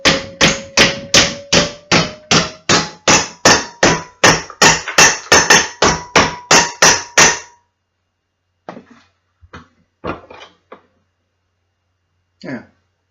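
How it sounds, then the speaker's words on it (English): Metal brackets for a Delta table saw outfeed table are struck with a hammer: about twenty sharp, evenly paced blows, then a pause and a few scattered taps, close and loud. "job isn't done if you're not using a hammer"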